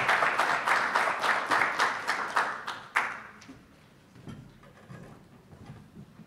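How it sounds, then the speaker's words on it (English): A conference audience applauds a session speaker, with brisk clapping for about three seconds that thins into a few scattered claps and quiet room noise. "Let's give a nice round of applause for Gregg."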